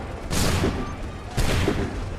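Two musket volleys fired on command in Assassin's Creed III, each a loud rolling burst of gunfire about a second apart with a lingering rumble, over steady battlefield ambience.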